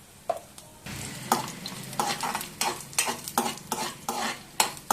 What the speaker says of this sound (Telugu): ధనియాలు కొద్దిగా వేగిన తర్వాత 1 టేబుల్ స్పూన్ వరకు జీలకర్ర వేసుకున్నాను